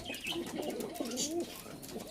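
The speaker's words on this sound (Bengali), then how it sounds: "এগুলো আমার মেইন ব্রিডিং পায়রা" Breeding pigeons coo in a loft, among them Lalpuri teddy and Oman teddy pigeons; soft repeated throaty coos and murmurs overlap close by against a steady background of other birds, with no talk.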